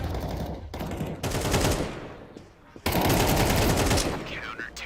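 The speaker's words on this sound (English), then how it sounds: "Throwing flashbang." Rapid gunfire and sharp bursts fill a tactical shooter match as a flashbang is thrown, loud and continuous with a brief lull before another dense volley.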